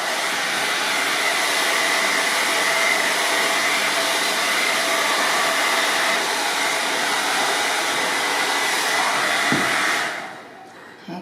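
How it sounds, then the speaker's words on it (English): A blow dryer runs continuously on relaxed hair, a loud steady whooshing roar that holds for about ten seconds before cutting off abruptly. "we're going to go ahead and be done with the blow dryer"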